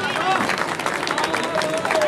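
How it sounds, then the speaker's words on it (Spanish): Live concert audience at an open-air fair in Mataderos applauding, a dense, loud wash of clapping with crowd voices mixed in, continuous across the whole moment. "Fuerte el aplauso para ustedes."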